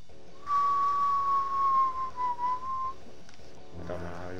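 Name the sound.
whistling in the video game Final Doom: TNT Evilution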